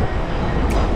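A Mumbai local train bound for Goregaon runs during the monsoon: a loud, close, continuous rolling rumble over a brief moment.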